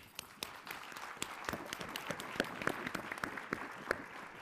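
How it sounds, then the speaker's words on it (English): Sparse, faint clapping from a small audience at a maternal and child health programme close-out event, individual claps standing out irregularly rather than forming a full ovation. "we need to give MCHIP a big round of applause for the work they've done in this area"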